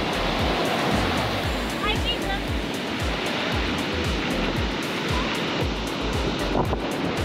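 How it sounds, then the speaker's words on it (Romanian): Loud, continuous roar of large waves crashing on a beach at La Digue, Seychelles, on a cloudy day, with strong wind buffeting the microphone, a dense rushing wash that never lets up. "Chiar dacă e vremea norată, valuri super mari, dar bate vântul"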